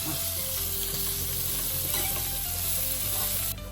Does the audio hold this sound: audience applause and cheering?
no